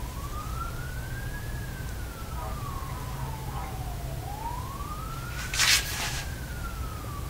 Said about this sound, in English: there's an ambulance, a siren, fire truck.